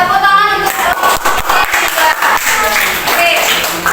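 A class of students claps steadily in a dense patter of applause, fairly loud and continuous throughout, with voices mixed in.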